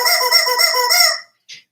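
A squeaky rubber chicken toy squeezed in one long wheezing, honking squeal of about a second, loud and close, followed by a short higher squeak after a pause.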